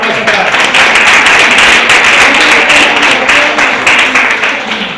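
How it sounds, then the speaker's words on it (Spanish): An audience claps at a talk in Alcañiz, a dense, loud burst of applause holding steady for several seconds, close and continuous with no clear pauses. "Un aplauso para él."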